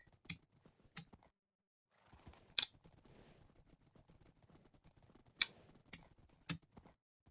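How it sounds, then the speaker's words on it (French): Computer keyboard keys clicking sparsely during a Minecraft gaming session, sharp isolated taps a second or so apart with soft clattering between, close and quiet, no voices. "On entend le bruit du clavier"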